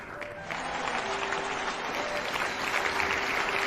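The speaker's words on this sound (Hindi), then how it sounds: "जोरदार ताली" Loud, sustained applause from a seated audience at a DXN company event in India, a dense wash of clapping that holds steady for several seconds with no voices standing out.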